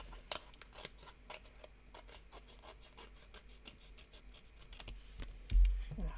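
Scissors snip through paper at close range, cutting down the middle of a sheet for a pop-up surprise box, with a quick series of small crisp cuts and rustles, faint and steady, no talking.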